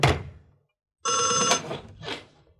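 An old-style telephone bell rings in two sharp metallic bursts separated by short pauses, close and clear in a quiet guest-house office, with no talk over it.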